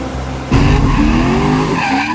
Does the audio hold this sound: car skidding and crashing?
yes